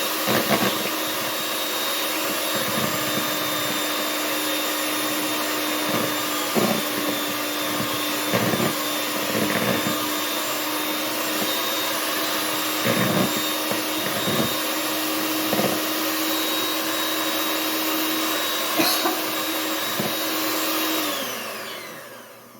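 An electric mixer whips a meringue mixture of egg whites, giving a loud, steady motor whine close by with faint clicks of the beaters against the bowl. It keeps running for about twenty seconds, then winds down at the end.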